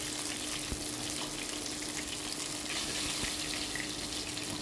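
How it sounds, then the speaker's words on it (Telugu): Cauliflower florets coated in a wheat flour batter fry in hot oil, giving a steady, dense hiss and sizzle close by that holds evenly throughout, with a couple of faint clicks. "ఈ కాలీఫ్లవర్స్ వేసేసి ఇలా ఫ్రై చేసేసుకుందాం"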